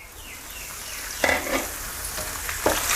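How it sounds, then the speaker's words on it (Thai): Holy basil leaves crackle and sizzle in hot oil, a steady frying hiss with a few sharper bursts of spattering, close by and with no voices. "พอน้ำมันร้อนแล้วนำใบกะเพราลงไปทอดหนึ่งกำมือครับ"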